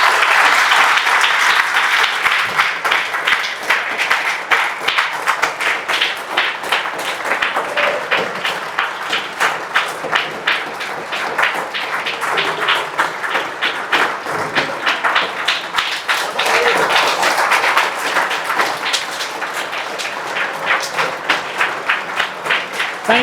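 Sustained applause from a standing classroom audience clapping together, dense and steady for over twenty seconds with scattered thumps and taps, loud and close, no talk over it.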